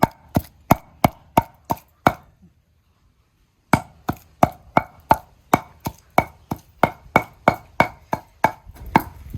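Coconut chutney pounded by hand in a stone mortar: sharp, evenly spaced thuds land about twice a second, pause for roughly a second and a half, then resume in a steady rhythm, close and loud with no voices.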